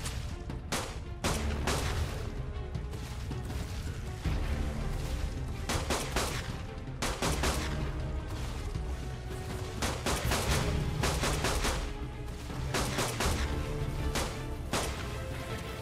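Gunfire in the video game ARK on its Genesis map: repeated sharp shots fired in quick bursts and singles across the whole stretch, loud and punchy over a steady background rumble.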